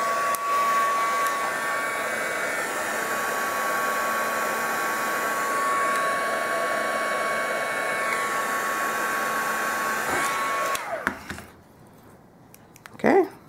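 A heat tool blows on a painted clothespin, making a loud, steady whine and rush for about ten seconds. It then cuts off, leaving faint handling noise and a short knock at the end.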